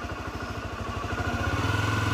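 A parked motorcycle idles on a market street in Belágua, Maranhão, giving a steady, close, low throbbing pulse that holds even throughout, with no talk over it.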